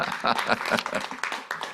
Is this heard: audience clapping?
yes